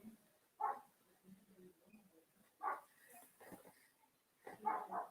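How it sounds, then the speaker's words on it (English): A dog barking outside, heard faintly from a distance in three separate short bursts of barks with quiet gaps between them. "my dog's out there barking like a jerk"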